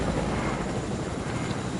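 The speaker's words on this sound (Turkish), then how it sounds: "Ben şu an helikopterdeyim." Helicopter in a video game, a steady broadband rotor and engine drone that holds at an even loudness throughout with no talk over it.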